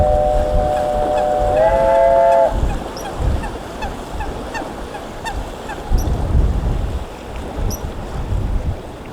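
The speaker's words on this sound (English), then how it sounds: "Proper old steamship, paddle ship." An old paddle steamship on Lake Brienz sounds its whistle, a loud sustained tonal blast that steps up in pitch, then gives way to engine thumps and outdoor ambience.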